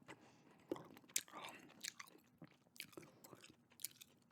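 Gum chewing close to the microphone, with soft wet smacks and crunchy bites in an irregular rhythm alongside quiet whispering, all very faint.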